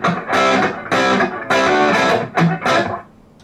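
Electric guitar played through a Killer Pirates MKII distortion pedal on the front pickup, loud saturated chords struck in several sustained bursts with short gaps, no talking.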